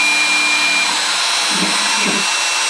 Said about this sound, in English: now just doing a dry run above the part